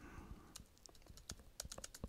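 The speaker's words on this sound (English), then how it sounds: "I can type a title for that and a subtitle if I'd like to" A slide title typed on a computer keyboard, a brisk irregular run of light close key clicks, quiet with no talking.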